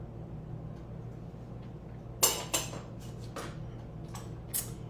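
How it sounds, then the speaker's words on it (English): A spoon scoops slices into a lunch bowl of black beans and rice, giving a few light clinks and scrapes against the bowl over a quiet background. "I'm just going to use a spoon here to scoop out my slices"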